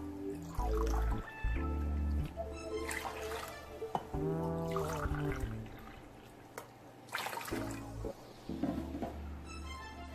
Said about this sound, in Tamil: நல்லா ஒரு மூணு டம்ளர் தண்ணி ஊற்றிக்கலாம்.